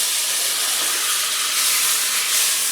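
A beef roast sears in butter in a pan on a woodstove, making a loud, dense, continuous hiss of sizzling fat that holds steady with no talk over it.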